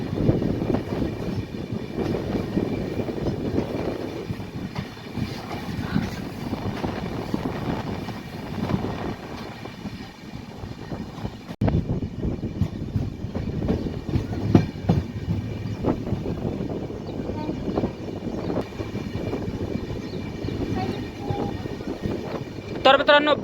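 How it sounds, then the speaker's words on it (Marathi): Near Kurduvadi station, the Daund–Kalaburagi special train rumbles past the Hutatma Express with a continuous rolling roar and clickety-clack from wheels over rail joints, with voices heard at times. "Daund Kalaburagi special train crossing."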